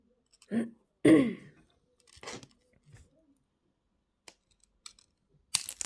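A few sharp, isolated snips of jewelry wire being cut for wire wrap earrings, close and distinct against near silence, spaced apart with quiet handling between them.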